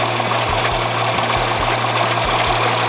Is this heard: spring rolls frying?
no